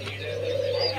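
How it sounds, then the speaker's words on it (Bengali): A pair of Barhuma pigeons coos in a soft, continuous murmur over a steady low hum, the calls swelling slightly toward the end. "দর্শক এখানে দেখতে পাচ্ছেন একজোড়া বারহুমা কবুতর"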